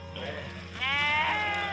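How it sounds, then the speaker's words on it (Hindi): A year-old male goat on a Himalayan hillside farm in Uttarakhand gives a single drawn-out, wavering bleat close by, over a low steady background hum. "ये बकरा ना साल भर का हो रहा है अभी"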